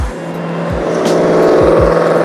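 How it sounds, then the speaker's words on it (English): Loud, close traffic noise with cars roaring past, engine tones rising and falling as several vehicles whoosh by in quick succession. "speeding cars to my left"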